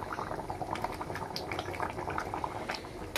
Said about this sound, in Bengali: দেখো টকবক করে কিন্তু ঝোল ফুটছে